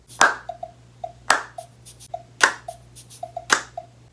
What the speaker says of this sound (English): Seventh, claps.